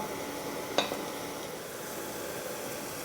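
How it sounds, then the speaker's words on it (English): Ground beef browning in a Dutch oven gives a steady, quiet sizzle throughout, broken once by a sharp clink of a utensil against the pot early on. "stick around while I get this ground beef browned up"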